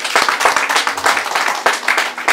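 A church congregation claps together during a worship service, a dense, steady patter of many hands close by with a few sharper individual claps and faint voices mixed in.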